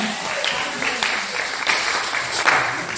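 Congregation applauding during a church service, steady mid-level clapping with a few louder bursts and some voices mixed in.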